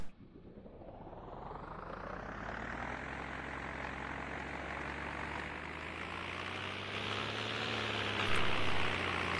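Aircraft engine building up and holding a steady, loud drone during takeoff in the Condor 2 glider simulator, with a broad continuous roar that swells slightly toward the end and no talking.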